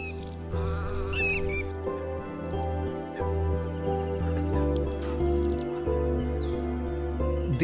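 Wetland birds calling at Keoladeo National Park in Bharatpur, Rajasthan: scattered chirps and calls come and go over a sustained musical backing, moderately quiet and set at a distance.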